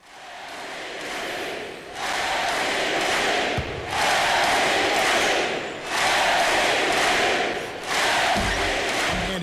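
A loud video game basketball crowd roars and cheers in surging waves, swelling and dipping several times, with a couple of dull thuds underneath.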